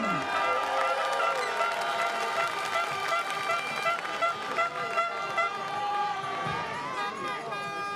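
Crowd at a women's canoe polo world championship semi-final applauding and cheering, a steady dense wash of noise throughout, with an announcer talking over it.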